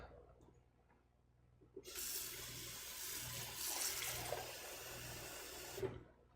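Water poured from a bowl into a pot of tomato seafood soup, a steady splashing gush lasting about four seconds, close and moderately loud, stopping abruptly.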